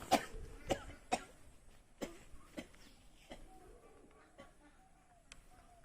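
During a short film shoot, a person coughs in a series of sharp bursts, the coughs coming close together at first and then thinning out, heard up close in a quiet room.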